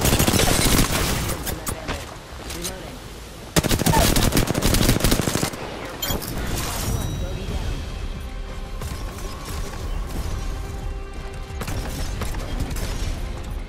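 Bursts of automatic gunfire in Apex Legends ranked play, loud rapid volleys in the opening seconds, then sporadic shots and mechanical clatter under in-game voice lines.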